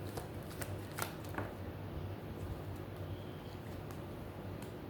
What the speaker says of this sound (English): A shuffle.